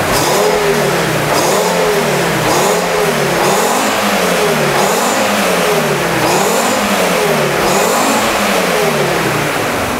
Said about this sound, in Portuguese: Acelerando, já está chegando no vermelho